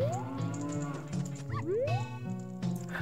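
Several synthetic-sounding cow moos in a Zelda: Ocarina of Time ROM hack overlap and rise in pitch, with a twangy electronic quality, over a few seconds without speech.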